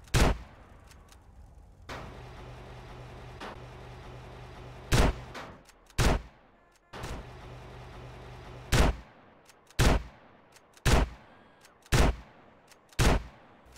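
A slow-firing weapon in GTA San Andreas Definitive Edition fires in single, sharp, loud shots. Each shot is spaced a second or more apart, and the shots come more regularly toward the end, over a low game background hum.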